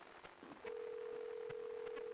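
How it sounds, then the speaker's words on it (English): Phone dialing tone in the video game Silent Hill: Shattered Memories: a steady, sustained electronic tone switching on and holding over faint background sound, fairly quiet. "お電話かけてる。"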